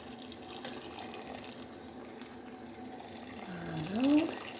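Boiling water pours into a pot for a Chinese soup, about a litre, making a soft, steady liquid rush that swells near the end of the pour, heard close and fairly faint.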